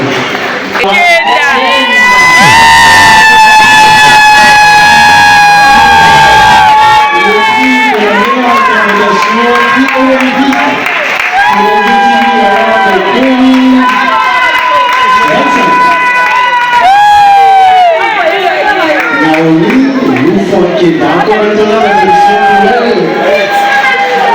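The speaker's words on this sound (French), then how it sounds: "Nos applaudissements bien nourris, s'il vous plaît." An audience at an award ceremony cheers and shouts with scattered clapping, a loud crowd roar with prominent voices and whoops riding above it throughout.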